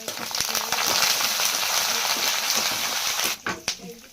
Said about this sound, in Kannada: ಒಮ್ಮೆ ಇದು ನೋಡಿರಿ ಫ್ರೈ ಆಗುತ್ತೆ ಸ್ವಲ್ಪ ಕರ್ಬೇವು ಸೊಪ್ಪು ಹಾಕೋದು